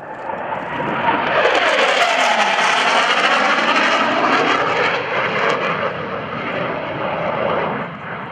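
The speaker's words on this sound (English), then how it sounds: "Probably noticed as he yanked and banked on the F-18 Hornet" A US Navy F/A-18C Hornet jet roars past during an airshow demonstration at Boston Portsmouth in 2011, a loud sustained jet-engine rumble with a shifting tone that fills the whole stretch.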